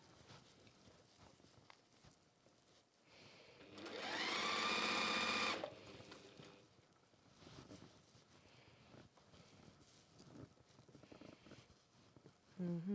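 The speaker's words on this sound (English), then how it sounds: "I'm sewing a nice straight line" A sewing machine stitches a straight seam on a scrappy log cabin quilt, a loud close burst of fast rhythmic whirring lasting a couple of seconds, with someone talking before and after.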